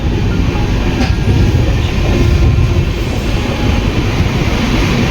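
The Kanchankanya Express rumbles steadily along the rails through North Bengal, loud and close, with a continuous rolling roar and faint rhythmic clatter throughout.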